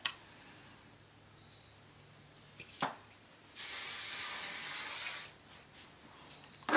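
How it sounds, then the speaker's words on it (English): Hairspray from an aerosol can misted onto big, teased hair in one close, steady hiss of about two seconds, with a couple of faint handling sounds before it and quiet around it. "we're going to add some, my least favorite thing, which is hairspray"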